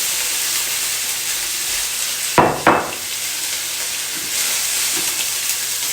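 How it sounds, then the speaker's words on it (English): Sweet peppers and an onion saute in a pan with a loud, steady close-up sizzle, and two sharp scraping stirs cut through midway. "we're only going to saute these for about 5 minutes. Sweet peppers. And an onion."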